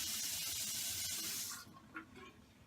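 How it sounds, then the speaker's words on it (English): Water from a tap runs steadily onto a towel held beneath it to dampen it for face washing, a close, even hiss that stops abruptly, followed by a few small drips and handling sounds. "She then has to place the towel underneath the water until damp, until fully coated"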